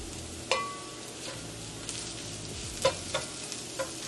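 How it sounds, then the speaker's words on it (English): Salmon frying in grease in a pan makes a low, continuous sizzle, with a few sharp pops and spits scattered over it, close and fairly quiet. "allow it to fry for a couple of minutes, and make sure your grease is scattered throughout your pan, so your salmon will be able to fry properly"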